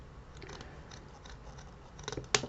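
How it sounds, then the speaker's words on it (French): Scissors snipping excess burlap fabric for a scrapbook mini album, a few faint quiet cuts followed by a sharper, louder snip near the end, close up and without speech. "j'ai ma petite toile de jute que je vais rafistoler un petit peu. Voilà. Je vais couper le surplus."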